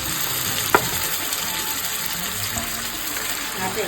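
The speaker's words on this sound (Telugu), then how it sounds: "చికెన్ ఫ్రై చేస్తున్నాం." Chicken fries in a pan of oil and ghee with onions and biryani masala, giving a steady close sizzling hiss throughout, with one sharp utensil clink early on and faint background voices.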